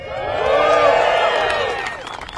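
A large crowd of steelworkers at a Nucor Steel plant cheers and whoops, the roar swelling over about a second and then fading, with voices mixed into the din.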